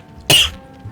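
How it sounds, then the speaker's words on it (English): A single sharp cough bursts out close to the microphone during a modded Skyrim SE play session, short and loud over quiet background sound. "sorry, I just coughed again."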